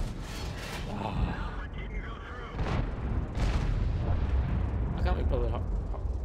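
Tank cannon fire in the World of Tanks video game: repeated heavy booming blasts with rumbling tails over a constant battle din, several shots spaced a second or so apart.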